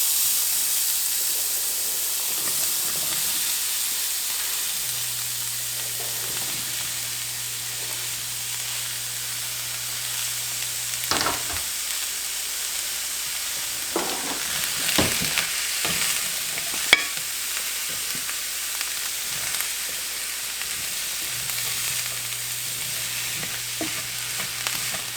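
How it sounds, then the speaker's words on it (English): Celery and onion sauté in a pan for a homemade stuffing mix, giving a steady, moderate sizzle with occasional stirring scrapes and utensil knocks throughout, no voices. "we're gonna get this celery and onion in here to start softening up"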